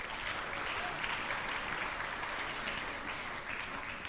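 Audience applause fills the hall at a vocational high school graduation ceremony in Banjarbaru, a dense, steady roar of many hands heard at a distance, holding even from start to finish.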